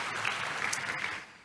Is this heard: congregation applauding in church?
yes